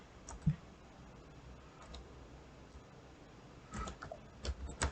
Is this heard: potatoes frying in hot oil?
no